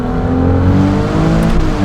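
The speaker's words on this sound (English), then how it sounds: "to the soundtrack of that gorgeous Novitec exhaust" A Novitec-tuned Ferrari 296 GTS N-Largo, a hybrid with an 868 hp engine, blares through its Novitec exhaust in a loud, close, sustained engine note that rises slightly as it accelerates, heard alone.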